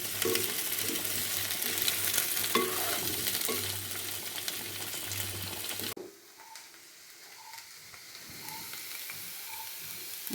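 Boiled potato pieces frying in oil give off a dense, steady sizzle that abruptly drops to a quieter crackle with occasional soft pops.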